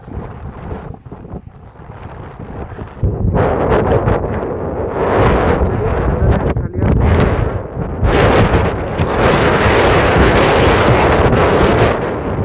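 Strong wind blowing over water near the port area of Reykjavik, Iceland, roars and buffets the microphone in loud, sustained gusts after a quieter start, drowning out any other sound.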